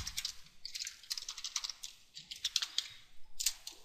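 Rapid keystrokes on a computer keyboard while coding a WPF button layout, close and crisp, coming in uneven bursts of clicks with short pauses between them.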